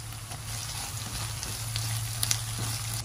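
Onion, garlic and bay leaf frying in mustard oil, a steady close sizzle with a low hum running beneath it throughout, no voices.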